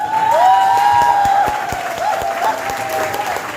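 Audience at a motivational seminar stands and claps together: loud, dense, steady applause sustained throughout, with a thin whistling tone, like microphone feedback, riding over it.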